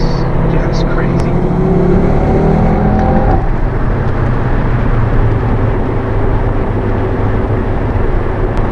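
A 2018 Audi TT RS accelerates hard from inside the cabin, its engine note rising in pitch, then shifting and climbing again, loud and continuous throughout.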